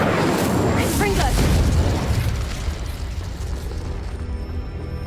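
A loud booming blast from a Confringo explosive spell cast in Hogwarts Legacy, a close burst that rolls into a long fading rumble with crackling debris.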